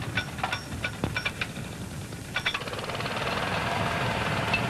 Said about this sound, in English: then we're ready to start the motor and begin Vibracoring